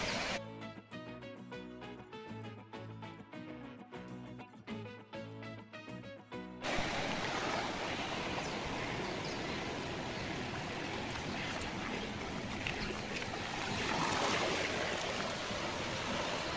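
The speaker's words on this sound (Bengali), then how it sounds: "কারণ এখন হাই টাইডের সময়, জল ছাপাং ছাপাং করে মারছে" Sea waves splash and wash onto a beach at high tide on Neil Island in the Andaman Islands. A steady, loud surf roar begins after several seconds of music and continues unbroken.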